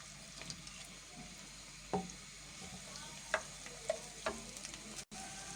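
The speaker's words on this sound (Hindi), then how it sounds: "अब इसमें हम प्याज शामिल कर देंगे और प्याज को हमने ब्राउन नहीं करना, इसे 2 से 3 मिनट तक हम ऐसे ही फ्राई करेंगे।" Onions fry in oil over medium-high heat for a chicken gravy, a soft, even sizzle running throughout with a few faint clicks and taps of a utensil.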